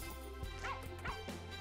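A small dog in the farming video game Planter gives a few short yips and bow-wows over a steady low game hum, a couple of quick barks spaced apart at moderate level.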